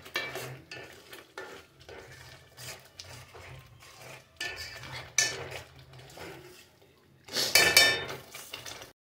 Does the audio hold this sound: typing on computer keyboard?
no